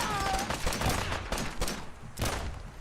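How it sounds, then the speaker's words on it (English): Rapid pistol shots from two handguns fired together in Fallout 4, a dense run of sharp cracks and bursts repeating across the stretch at close range over game ambience. "if I hold the thing down, they fire both pistols"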